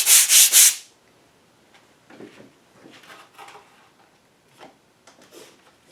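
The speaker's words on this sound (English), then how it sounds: "I like to take a regular sanding block just to clean the debris off" A regular sanding block rubs across Lansky sharpening stones to clear off oily debris, first as three loud, quick scrubbing strokes, then as quieter, scattered scraping and rubbing.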